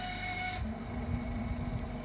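A Traeger pellet grill starts up on a cold outdoor morning, its auger motor kicking in with a steady mechanical hum and faint whine after a brief higher-pitched start, running continuously at moderate loudness.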